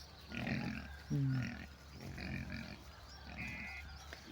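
A wild boar grunts several times, low and rough, in a loose rhythm with short gaps, fairly quiet against faint outdoor background noise.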